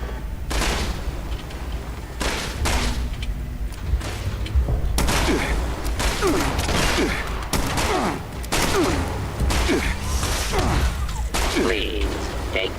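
Gunfire rattles in the online game Fallout 76, with repeated bursts of shots and volleys crackling at close range amid thuds and clanks, continuing nearly nonstop and loud throughout.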